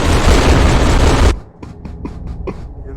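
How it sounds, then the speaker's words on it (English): Gunfire and explosions in an animated battle scene: a loud continuous barrage of blasts that cuts off abruptly, followed by a few fainter, evenly spaced shots. "just running around shooting each other down there"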